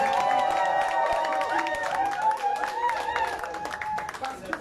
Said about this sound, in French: Alors, applaudissez-vous vous-même.